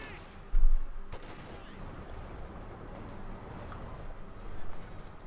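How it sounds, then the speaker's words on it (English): Mortar fire and other battlefield gunfire in the WWII strategy game Company of Heroes 2, with a sharp blast near the start and a continuous rumble of distant explosions and shooting, under commentary. "more mortar fire"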